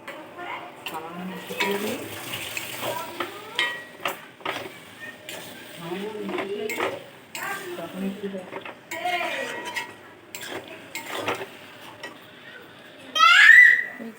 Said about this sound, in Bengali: চিংড়ি মাছ দিয়ে নেড়ে চেড়ে শুকনো শুকনো করতে হবে।